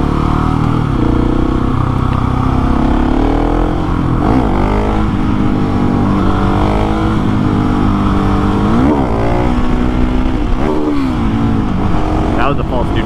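A KTM 701 motorcycle rides along a twisty road, its engine droning loud and close throughout with rising and falling revs through the bends, wind buffeting over it.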